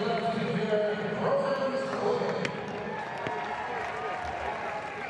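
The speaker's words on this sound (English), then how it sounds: "Getting a nice round of applause as he exits the field." A baseball crowd at a Pittsburgh Pirates versus Philadelphia Phillies game applauds as a player exits the field, a broad wash of clapping and cheering heard under a broadcaster's commentary.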